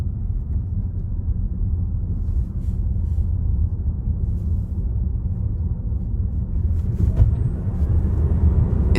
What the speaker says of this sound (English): This one speeds up a lot.